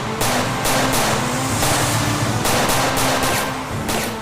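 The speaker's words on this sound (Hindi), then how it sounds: "उस औरत ने नीचे कुछ फेंका है और उस पर फायरिंग कर रही है।" A woman firing a gun at the ground, producing steady rapid bursts of gunfire that keep a fairly even, dense rhythm at moderate loudness with no talk over it.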